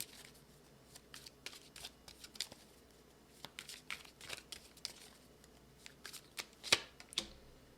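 Tarot cards are shuffled by hand at close range, with quiet riffling bursts and soft flicks in an irregular rhythm, some louder snaps near the end, over a hushed background.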